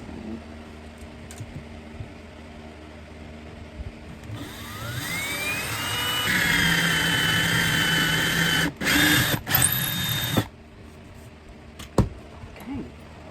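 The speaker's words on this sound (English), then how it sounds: "I'm going to drill a hole." A power drill whirs up and bores a hole in a piece of furniture, its pitch climbing as it spins, running for several seconds with brief stops and restarts before cutting off, close and fairly loud amid quiet room noise.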